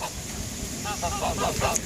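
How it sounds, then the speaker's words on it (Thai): Thai native farm ducks, four and a half months old and starting to lay, give a short run of nasal quacks close by over a soft outdoor background. "นี่นะครับเป็ดบ้านนาของเรา"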